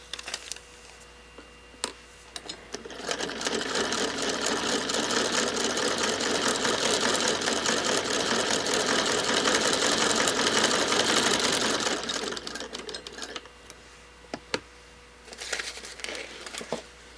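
A sewing machine stitches pieces of fabric in one steady continuous run of about nine seconds, close and fairly loud, with quieter handling rustle before and after, during a prickly pear quilt block sew-along.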